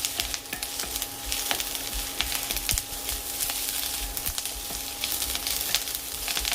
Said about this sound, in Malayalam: മുരിങ്ങയില എണ്ണയിൽ കിടന്ന് നന്നായിട്ട് വാടിയിട്ടുണ്ട്